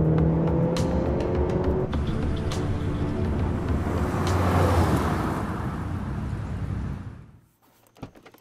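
A Maserati Grecale 2.0-liter engine roars loudly and steadily, the revving building then fading away, followed by near quiet and a single sharp knock.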